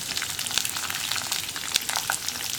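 Kashmiri chillies and dried red chillies fry in a pan for chutney, giving a steady, close crackling sizzle with sharp pops scattered throughout and no talking.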